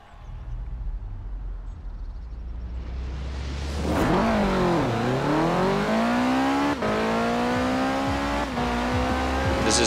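A 1985 Ford RS200 Evolution races in Forza Horizon 4, its engine rising from a low background drone into a loud, close revving climb with gear-change dips and a sustained high-pitched howl.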